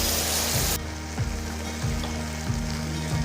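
Broken wheat and moong dal with vangibath powder stirred in a hot pan for bisibele bath, a steady close sizzle with several scraping strokes of the spoon and no talk.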